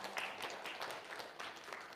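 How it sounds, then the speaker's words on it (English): Quiet, somewhat distant applause from a congregation at a church service, a soft irregular patter of hands clapping with no talk over it. "Let's give her a round of applause"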